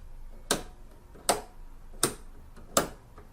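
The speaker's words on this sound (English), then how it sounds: "You can hear it doing its clicking and stuff in there." Temperature control dial on a Frigidaire FFRA0511R1E window air conditioner, four sharp, evenly spaced clicks about a second apart, close and crisp against a quiet background.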